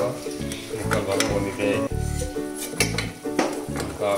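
Butter bubbles and fries in a pot while being cooked down into ghee, a crackling sizzle broken by clinks and scrapes of a spoon stirring against the metal, with some faint background sound and no clear speech.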